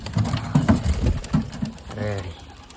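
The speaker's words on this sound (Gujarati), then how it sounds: "એટલે તો આ કબૂતર છે ને હિતુભાઈનું નથી" A pigeon coos close by, with soft wing flutters and shuffling, while people talk around it.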